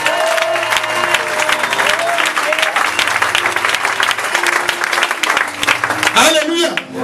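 A church congregation claps and cheers steadily and loudly through a French-language service, with a preacher's voice carrying over the sustained applause.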